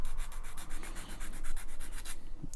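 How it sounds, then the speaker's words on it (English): A sanding stick rubs back and forth over a small plastic part from a 1:35 scale Saladin British armoured car kit, a close, even rasping stroke in quick regular rhythm. "tidy it up with a sanding stick"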